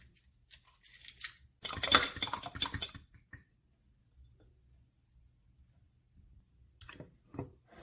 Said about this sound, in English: I'll then whisk 2 eggs.